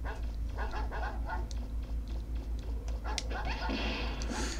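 Dogs barking in Mega Man Legends, a run of short, fairly close barks and yips in irregular bursts over a constant low hum, with a voice briefly talking over them.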